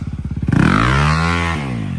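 Motorcycle engine at a bike fun day, close and loud: rapid rhythmic cranking pulses, then the engine catches and revs up high before settling into a throaty idle.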